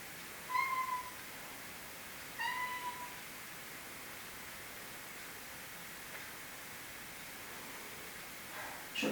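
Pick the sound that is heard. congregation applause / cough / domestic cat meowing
domestic cat meowing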